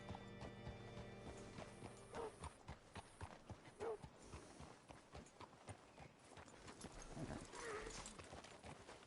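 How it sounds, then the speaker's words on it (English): A horse's hooves clip-clop in an uneven walking rhythm on firm ground, close and clear, with brief snorts and a voice talking over them. "Hitch your horse up here."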